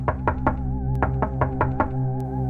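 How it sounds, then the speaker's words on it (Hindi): Someone knocking on a door from outside in a quiet home at night, two quick bursts of sharp raps, three then five, close and distinct over a low sustained drone, no voices. "जैसे कि कोई बाहर से दरवाजा खटखटा रहा हो।"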